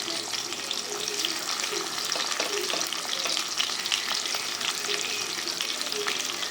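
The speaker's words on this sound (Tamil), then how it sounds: "இப்போ நம்ம வேணுங்கிற அளவுக்கு வெங்காயம் போட்டுக்கலாம். நல்லா வெங்காயம் போட்டு நல்லா ஒரு மைல்டு கலராக வர மாதிரி வதக்கிக்கலாம்." Onions sauté in hot oil with a continuous, fairly loud sizzle and crackle, and the spoon occasionally scrapes and stirs.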